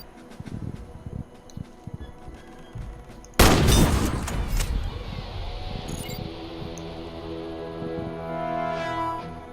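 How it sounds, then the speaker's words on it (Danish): A sniper rifle fires in the shooter game Warface, one sharp loud shot ringing out and decaying after scattered quieter clicks and handling noises. "Hit all the targets with your sniper rifle."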